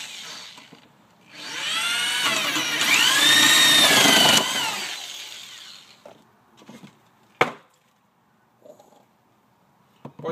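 Power drill boring holes, a loud whining motor run of about three seconds with a rising then steady pitch that cuts off, followed by a few scattered knocks and clicks.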